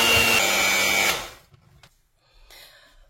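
A kitchen mixer whirs loudly while beating yogurt cake batter, then stops after about a second, leaving faint handling noises and a short scrape.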